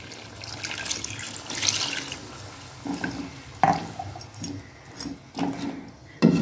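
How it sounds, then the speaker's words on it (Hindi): Water poured into a pan of fried chicken feet, splashing and sizzling in uneven bursts with sharp spattering peaks, close and moderately loud. "अब आप क्या करेंगे, इसमें पानी ऐड कर दें,"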